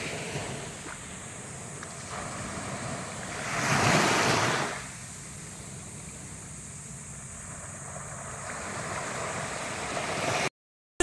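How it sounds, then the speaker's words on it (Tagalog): Ocean surf washes steadily onto a beach front at Calauag, Quezon, with a broad continuous roar that swells into a louder breaking wave near the middle before settling back, with light wind noise on the microphone and no voices. "Kitang-kita natin yung ganda ng agos ng tubig"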